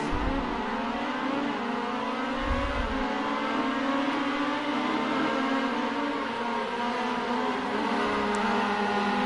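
Race cars pull away and accelerate at Lydden Hill, their engines building into a loud, sustained, rising drone with a thump near the start. The engines fill the whole clip with no talking.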